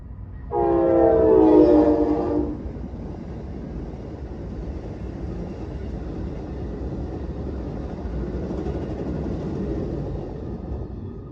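A loud, low train horn sounds for a couple of seconds, then gives way to a steady muffled rumble of rolling wheels heard from inside a vehicle.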